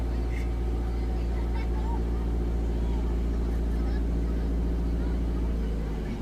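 A learner's car engine holds a steady, close low drone as it pulls away, barely swelling, under a calm spoken voice giving instructions.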